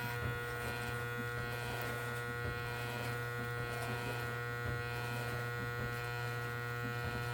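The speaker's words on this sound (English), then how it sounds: "you're going to flip it and just go up using the other side of the trimmer" Electric hair trimmer buzzing steadily and close while cutting hair, a constant motor hum with no speech over it.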